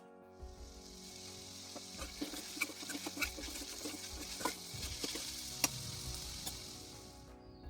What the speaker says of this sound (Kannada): ಸ್ವಲ್ಪ ಹೊತ್ತು ಫ್ರೈ ಆದಮೇಲೆ ಒಂದು 2 ಸಣ್ಣಕ್ಕೆ ಉದ್ದುದ್ದಕ್ಕೆ ಹಚ್ಚಿರೋ ಈರುಳ್ಳಿ ಮತ್ತು ಕ್ಯಾರೆಟ್ ಸೇರಿಸ್ಕೊಳ್ತಾ ಇದ್ದೀನಿ